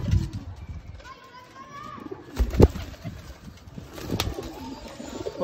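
Pure breeder Chapde pigeons coo in a loft, soft burbling calls repeating close by under steady talking, with some shuffling and thumps.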